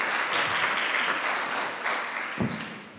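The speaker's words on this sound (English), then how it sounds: "Round of applause for Amir." A conference audience at a sustainable-technology event claps in steady, sustained applause that fills the whole stretch at an even level, with no talking over it.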